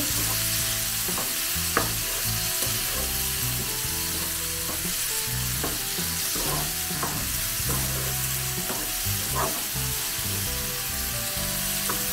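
Prawns frying and being stirred in a pan for a prawn roast, a steady close sizzle with repeated scraping stir strokes throughout, no voices.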